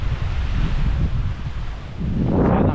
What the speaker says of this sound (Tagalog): Lakas-lakas pa rin ang hangin dito.